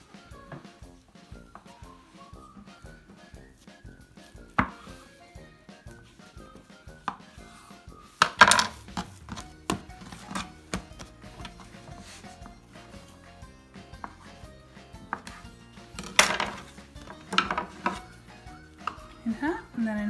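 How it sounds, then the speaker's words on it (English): A knife cuts through risen pizza dough on a board, dividing it into eight portions for fried calzones (panzerotti); soft, scattered taps and thuds come at irregular intervals, close and fairly quiet, with no talk. "I'm going to just cut these into 8 nice portions"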